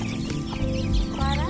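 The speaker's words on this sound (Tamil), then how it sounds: "இது வந்து கிராப்பு கோழி" Crested crop-haired chicken in a village, giving soft, repeated clucks close by against a steady background hum.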